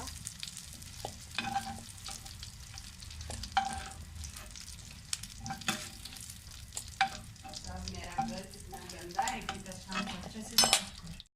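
Onions frying in a pan for a prawn chilli fry, a steady sizzle with intermittent scrapes and stirring clatter of a utensil against the pan, close and moderately loud with no one talking.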